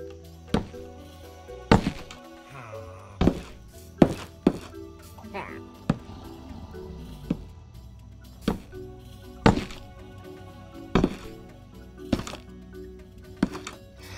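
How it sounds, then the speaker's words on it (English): Warped wood blocks in Minecraft thunk down one after another at an uneven pace, about a dozen short knocking placements over a soft background hum. "crimson and warp woods now have their own unique sounds when placing them"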